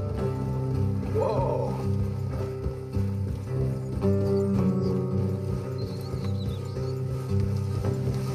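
Horses clip-clop along an off-road trail in the video game Red Dead Redemption 2, steady hoofbeats close by over a continuous low rumble, with a brief neigh near the start.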